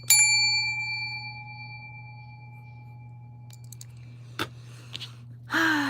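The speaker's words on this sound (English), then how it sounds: "and ring my bell" A small bell is struck once indoors during a crochet session, a bright ringing ding that decays slowly over a steady low hum, followed by faint clicks and a brief rustle.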